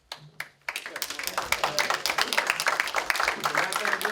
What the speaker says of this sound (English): we just keep the applause down